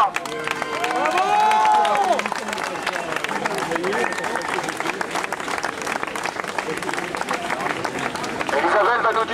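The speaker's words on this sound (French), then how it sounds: "On l'applaudit bien fort." An audience at a citizens' gathering breaks into sustained applause mixed with cheers, steady and fairly loud, with a voice speaking over the clapping near the start.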